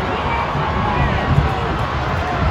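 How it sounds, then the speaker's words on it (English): Marietta crowd at a football game gives a dense, steady roar of cheering and babble, loud and continuous with no breaks. "Crowd of Marietta getting hyped"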